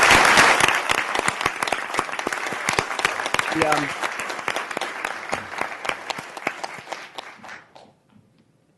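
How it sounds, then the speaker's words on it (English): Strong audience applause for former Mayor Sam Adams at an arts event, dense clapping that starts loud and gradually thins and fades out, with a brief spoken phrase early on. "I say a round of applause for Mayor Sam Adams for the work"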